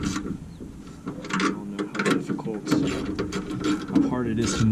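Ratchet clicking as a 10 mm socket tightens a fastener while replacing the horn ring on a 1959 Ford, quick bursts of clicks close by, mixed with someone talking over them.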